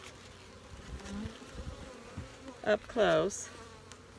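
Honey bees buzz close by at an open hive during an inspection, a low background hum rising into two louder, nearer bursts of buzzing toward the end, with a few words spoken quietly.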